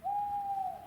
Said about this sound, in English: there's a couple of owls talking to each other